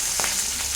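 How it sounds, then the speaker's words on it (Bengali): Pieces of katla fish coated lightly with turmeric frying in a pan, a steady close hiss of oil with a few brief crackling pops. "আমি এরকম হালকা হালকা করে ভেজে নিয়েছি"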